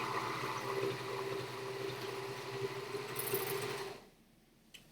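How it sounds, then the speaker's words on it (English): A sewing machine stitches the second side of a fabric bag, its motor humming in one steady continuous run for about four seconds before it stops abruptly, leaving near silence. "So now I'm sewing the second side."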